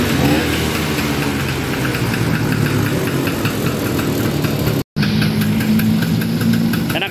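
A 1968 Vespa Sprint scooter engine idles close by with a steady, loud, slightly knocking mid-pitched putter that holds even throughout, broken only by a momentary dropout.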